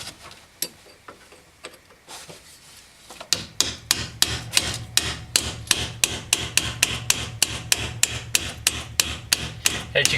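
A 6mm drift pin hammered to drive out a roll pin in a shifter assembly: a few scattered taps, then a steady run of about twenty sharp metallic blows at a quick, even rhythm, close and clear with no talking.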